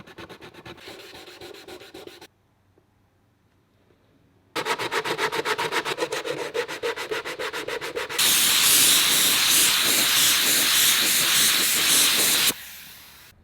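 A spray can lays primer on a car part for an Evo 8 repaint, with bursts of loud, steady hissing separated by a short pause and ending abruptly.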